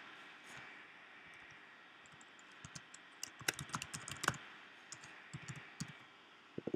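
Fingers tap out a password on a computer keyboard, a quiet, irregular run of light clicks and key presses that grows busier toward the end, heard on its own with no talking.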